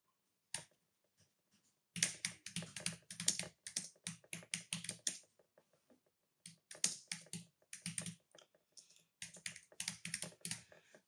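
Typing on a computer keyboard: rapid close clicking bursts of keystrokes, a short pause in the middle, then another run of quick taps, with no talking.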